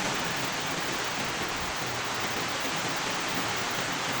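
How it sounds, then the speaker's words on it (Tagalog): Heavy rain during a flood with high water, a dense, steady broadband roar that stays loud and unbroken from start to finish, with no voices. "Napakalakas ang ulan."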